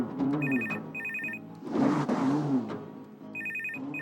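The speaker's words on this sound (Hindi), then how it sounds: "फोन रिंग कर रहा है, उठा तो लो।" A landline telephone rings indoors in loud, repeated electronic bursts, pausing between rings, with a murmur of television drama sound underneath.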